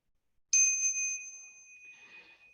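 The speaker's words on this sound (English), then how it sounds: "I will do the small bell from here." A small meditation bell closing a chant is struck once up close, its clear high tone ringing out and slowly fading into quiet.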